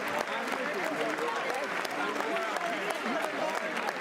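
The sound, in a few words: applause in the State of the Union chamber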